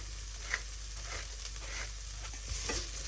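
Harira soup ingredients being stirred together in a cooking pot, giving soft scraping and swishing strokes at a steady rhythm with a faint background sizzle and no talk.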